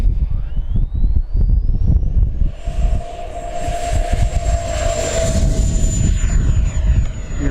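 An FMS Avanti V3 RC model ducted-fan jet spools up and takes off on a windy day, its whine rising sharply in pitch and then holding a loud, steady scream close by over gusty wind noise.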